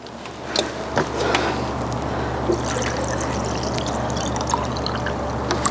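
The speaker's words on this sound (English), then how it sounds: "you can fill this up with water" Water pours steadily into a bulb forcing vase, a soft continuous trickle close by with a faint low hum underneath and a few small knocks, no talking.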